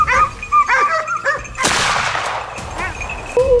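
A pack of hunting dogs barks and yelps in quick bursts while chasing a wild boar, with a loud sharp crack cutting through the barking partway.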